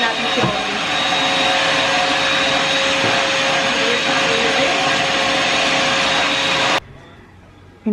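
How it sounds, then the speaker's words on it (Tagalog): A household vacuum cleaner runs loud and close with a steady roaring whine for several seconds, then cuts off abruptly, leaving a quiet room. "Vacuumin natin si Holly."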